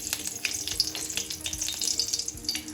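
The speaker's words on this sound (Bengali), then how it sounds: "কড়াই গরম হয়ে গেছে আমি এখন তেল দিলাম শুকনো লঙ্কা দিলাম" Dry red chillies crackle and sizzle in hot oil in a heated kadai, a busy spattering hiss with small pops, close up and fairly quiet, no voices.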